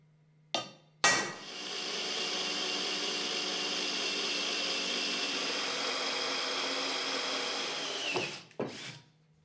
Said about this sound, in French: Poinçonnez et forez également ces trous.